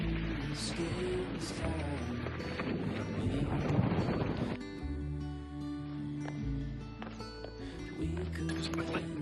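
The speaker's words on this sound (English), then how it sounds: "Just quickly drop out of all the snow and the wind." Strong wind buffets the microphone on the snowy Minffordd path up Cader Idris mountain, a loud, rough, continuous rumble that swells and eases, with footsteps and movement noises mixed in.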